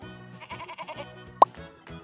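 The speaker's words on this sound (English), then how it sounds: "A goat?" A goat bleats in a quavering, wavering tone, a few pulsing calls in sequence, with a brief sharp plop-like click near the end.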